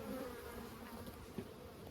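Honeybees buzz around a sparsely populated hive during hive maintenance, a soft, steady drone with a brief louder pass near the end, faint and close.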